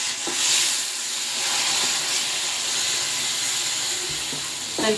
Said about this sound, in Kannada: ಇನ್ನೊಂದು ಸ್ವಲ್ಪ ಇದಕ್ಕೆ ಬಿಸಿನೀರು ಹಾಕ್ತೀನಿ